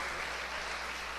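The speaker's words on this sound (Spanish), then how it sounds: "Vamos a darle un fuerte aplauso al Señor" A church congregation claps together in a brief, even wash of applause, moderately distant and continuous, with no voices over it.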